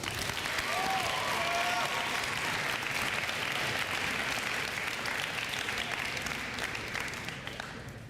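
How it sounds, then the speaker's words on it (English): A crowd applauds steadily and loudly for several seconds at an indoor school fall sports ceremony, the clapping dense and sustained before tapering slightly at the end. "Let's give a big round of applause."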